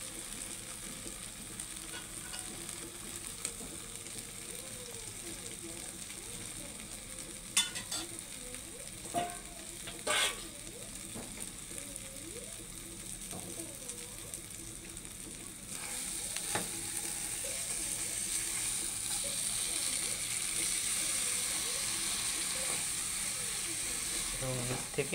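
About two kilograms of Chinese duck meat sizzling and frying in spices, a continuous hiss broken by spoon scrapes and clinks as it is stirred, quieter at first and then louder and denser in the second half.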